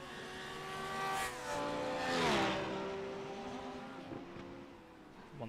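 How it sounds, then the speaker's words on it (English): GT3 race car engines, including Lamborghinis, howl past on the Zolder circuit in a sim race, rising and falling in pitch as cars accelerate, shift gears and pass one after another. "The engines in these cars making a real racket"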